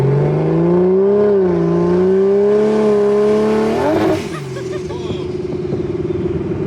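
A Barra-swapped Ford Mustang GT350 revs hard through a gear, its engine note rising loud and close. At the shift, the gearbox slips with a rough, jumbled burst before the engine falls to a lower, uneven rumble.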